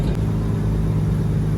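A BMW N54 single-turbo car engine drones loud and close at a steady pitch, a continuous low rumble without clear revving changes.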